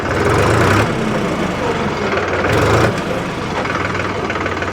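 A Mahindra 275 DI TU PP tractor engine runs steadily in gear, a loud, close, rough diesel drone with a brief swell in the middle and no talk over it.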